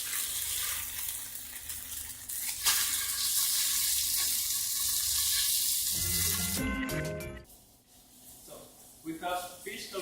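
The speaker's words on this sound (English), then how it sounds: "When cooking fish, you don't want to turn it over so quick, so let it get crispy to get a nice color." Spicy Moroccan fish fries in a hot pan with a steady, close broadband sizzle that holds for several seconds, then gives way to clatter and scraping from the pan.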